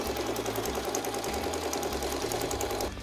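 A sewing machine runs a new stitch along the edge of a tarp bag, a steady close-up mechanical whir with a fast needle rhythm that stops just before the end.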